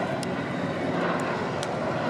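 Douglas DC-3 propeller engines drone loudly and steadily at an air show, a continuous broad roar with no pauses and no voice over it.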